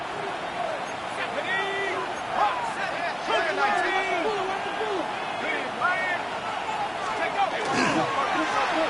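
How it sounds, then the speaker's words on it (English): Stadium crowd noise at a Lions football game on third down, a steady roar of fans with rising cheers and whistles under continuous play-by-play commentary. "This crowd into it now as we get to third down."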